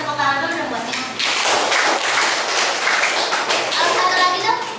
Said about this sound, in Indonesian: tepuk tangan dulu dong buat Mina.